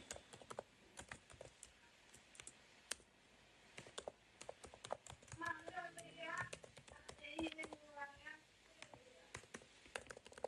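Keys clatter in quick irregular bursts as someone types item details into a cashier program's input form, close and steady across the whole stretch, with a person talking over part of it.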